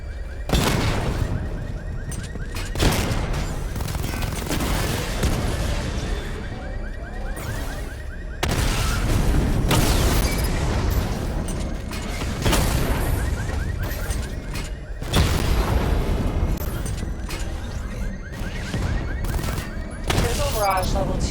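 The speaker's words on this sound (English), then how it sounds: "Charge up missile barrage to level 2 and destroy 4 active targets to complete diagnostic test." In Batman: Arkham Knight, repeated missile barrages from the Batmobile fire in loud rapid volleys of booming blasts and crackling explosions, recurring every few seconds with a low rumble beneath and speech mixed in.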